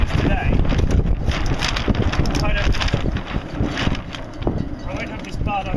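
Strong wind buffets the microphone while sailing an RS100 dinghy, a loud continuous rumbling roar with gusty swells and water noise, with a person speaking over it.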